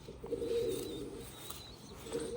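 Low, soft cooing of a large female pigeon in two short bouts, fairly close, with faint chirps in the background.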